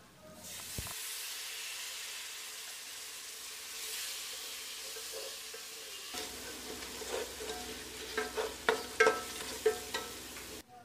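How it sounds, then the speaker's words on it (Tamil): Oil sizzles and hisses steadily, then a spoon scrapes and stirs spices frying in the pan for vegetable biryani in several distinct strokes as the frying grows louder. "இதை ஆயிலே பிரட்டி விடுவோம்."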